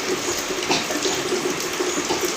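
Steady rain pouring down after falling through the night, a continuous broadband wash of water at a constant level with no voices.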